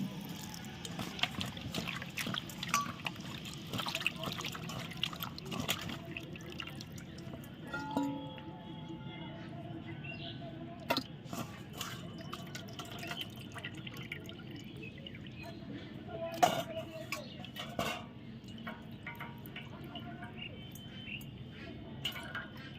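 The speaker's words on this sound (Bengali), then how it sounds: "এবার আমি লেটা মাছটা আবারও পরিষ্কার জল দিয়ে ধুয়ে তুলে নিচ্ছি।" Leta fish being rinsed in clean water gives soft, irregular splashes, drips and trickles, quiet and close, scattered over a long stretch with occasional sharper sloshes.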